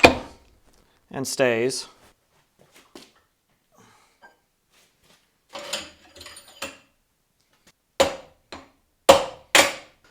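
A few sharp metallic taps seat a machined tool into a milling machine spindle, sounding close and distinct, scattered between short stretches of talking and quiet.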